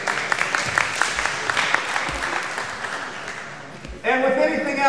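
Basketball clinic participants in Tijuana clap together, a dense burst of applause rising sharply near the end of the clip after scattered voices and dribbling-like thumps.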